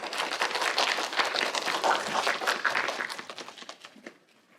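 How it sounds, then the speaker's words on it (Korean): Warm applause from a lecture audience welcoming a university professor at an education talk, a steady, full crowd clapping that holds for several seconds and then fades out gradually. "우리 뜨거운 박수로 맞겠습니다"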